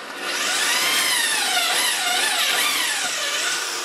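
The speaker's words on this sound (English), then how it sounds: "Now I'm going to drill a little hole." A power drill whines steadily at high speed, loud and close, its pitch wavering slightly as it bites a small hole into a wooden propeller for a few seconds.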